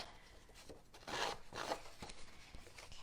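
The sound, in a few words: scissors blade roughing up the edge of cardstock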